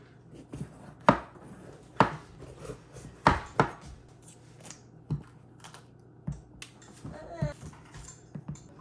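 An onion being chopped with a Cold Steel Butcher Knife Commercial Series: a series of crisp, close knife strikes at an uneven pace, with some soft rustling between cuts.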